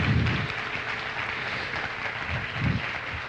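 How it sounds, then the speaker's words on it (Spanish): An audience at a church gathering applauds for the Lord and the Virgin, a dense, continuous round of clapping that runs steadily for several seconds without speech. "Démosle un aplauso al Señor"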